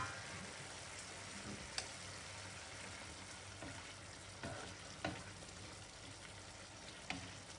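Prawns fry in a pan for an Anglo-Indian prawn vindaloo, with a faint, continuous sizzle broken by a few sharp pops and spatters. No voices are heard.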